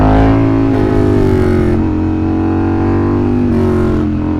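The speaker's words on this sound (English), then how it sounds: "I don't know why this car is on my private empty road" A car passes on an empty private road, its engine loud and near with a steady droning hum that shifts slightly in pitch as it goes by, with no voices.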